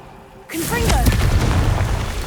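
In the video game Hogwarts Legacy, a Confringo blasting spell bursts with a sudden loud boom after a half-second of quiet, then trails off in crackling fiery rumble that fills the rest.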